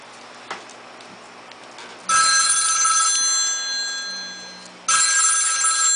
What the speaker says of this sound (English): That is the Red Hornet calling on the phone.